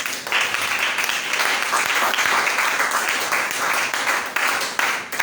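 A church congregation applauds together in sustained, dense clapping that holds steady and loud from start to finish, filling the space without any talking on top.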